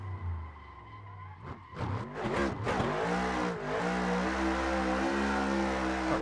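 Fun Haver RTR Pro Mustang RC car drifting sideways, its electric motor whining and revving up and down in quick bursts with tire scrubbing, fairly close and alone without talk.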